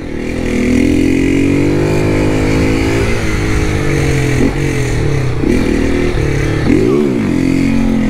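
A Honda Start 160 motorcycle engine revs up close and loud, climbing in pitch, holding at high revs, then dipping and surging again in several throttle blips before settling.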